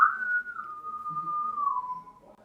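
One person whistles a slow, sustained tune, a single clear held line gliding gently downward for about two seconds, close and fairly soft, with no talking.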